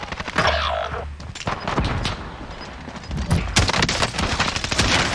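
EBR rifle fire in Call of Duty: Warzone, a run of loud, close gunshots in quick succession over battle noise, with a few heavier booms mixed in.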